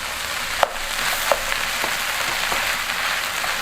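A tuna and mashed potato mixture is stirred in a frying pan, giving a steady close sizzle with a few sharp scraping clicks from the spoon.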